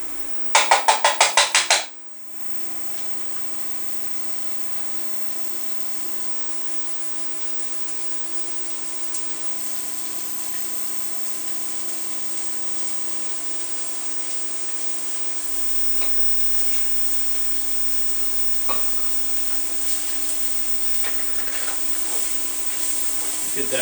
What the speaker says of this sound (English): I'm going to go back up on high here. I bumped the temp down. I'm going to go in with my onions and my garlic.